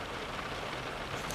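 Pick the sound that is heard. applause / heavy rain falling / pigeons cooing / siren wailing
heavy rain falling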